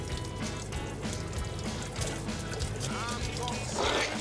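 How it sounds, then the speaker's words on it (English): Water flows out through a hose during pink antifreeze winterizing of a pop-up camper shower, a steady rushing pour heard up close with a voice talking over it. "the water's coming out through this hose"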